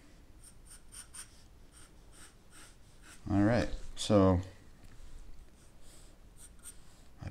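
A graphite pencil scratches and strokes on paper while sketching a face, soft rhythmic scribbles close to the microphone, briefly interrupted by a spoken phrase.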